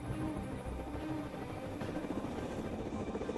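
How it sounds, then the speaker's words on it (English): A helicopter's steady rotor thrum and turbine whine hang in the background on approach to a small concrete pier landing pad during a presidential mission, fairly faint and continuous. "not one, but 4 helicopters must squeeze onto the pad"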